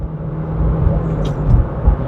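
Inside a Proton Saga 1.3 with a manual gearbox, the engine drones steadily under load past 4,000 RPM, a constant low rumble and hum that fills the cabin, with faint road noise and no clear voice.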